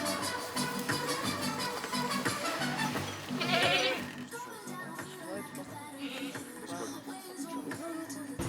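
Goats bleating in a small urban pasture in Bagnolet, with sheep also present: repeated bleats over a steady outdoor background, with people talking nearby throughout.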